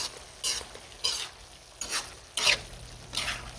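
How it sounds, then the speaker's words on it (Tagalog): Potatoes get mashed and stirred with ground meat in a pan, about six separate scraping, squishing strokes at an uneven pace over a soft background sizzle. "Hanggang madurog yung ibang mga patatas"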